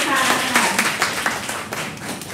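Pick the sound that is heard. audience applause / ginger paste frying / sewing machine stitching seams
audience applause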